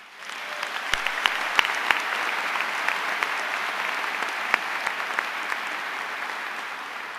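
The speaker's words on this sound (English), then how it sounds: "Please join me in applauding their efforts." Graduation audience at a Triton High School ceremony in Erwin, North Carolina, applauds the class of 2018 with sustained crowd clapping across a large hall, with a few sharper nearby claps standing out.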